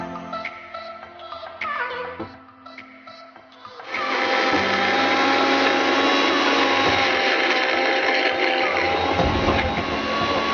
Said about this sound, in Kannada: ಮೊದಲು ನಾವು ಕತ್ತರಿಸಿದಂತಹ ಈರುಳ್ಳಿಯನ್ನ ಮಿಕ್ಸಿ ಜಾರ್ಗೆ ಹಾಕೊಳ್ಳೋಣ